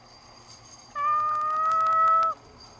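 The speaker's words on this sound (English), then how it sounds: "You didn't want a kitty in your dungeon? Not yowling his head off." A cat meows once in a dungeon-themed sound effect, a single drawn-out, tonal yowl of over a second, fairly loud above a faint background hum.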